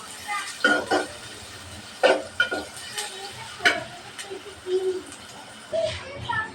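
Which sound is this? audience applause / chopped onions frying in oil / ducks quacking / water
chopped onions frying in oil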